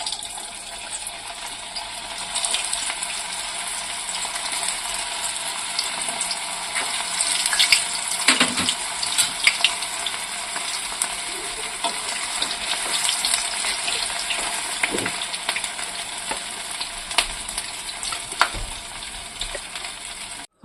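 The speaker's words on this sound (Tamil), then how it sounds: "இப்போ நம்ம ஊட்டி வச்சுக்கிற பால்ஸ் இதில் போட்டு பொரிச்சு எடுத்துக்கலாம்" Potato balls deep-frying in hot oil give off a continuous soft sizzle and crackle with scattered pops and bubbling, moderately quiet and heard without speech.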